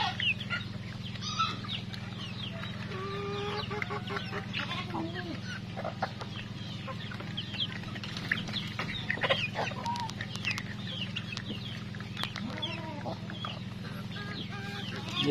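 Rhode Island Red and native cross chickens cluck and call continuously at a farm in the morning, many birds close and far over a steady low hum, with someone talking intermittently underneath.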